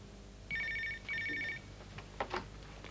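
An office telephone rings twice in two even electronic bursts, clear and close, followed by a brief click or handset pickup, with no talking.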